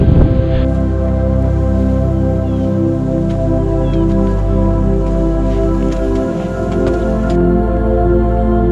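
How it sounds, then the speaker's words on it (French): Steady, loud wind buffets the microphone near the summit of Fansipan mountain, a continuous roaring rush with low rumbling gusts and no voices. "maintenant il y a du vent"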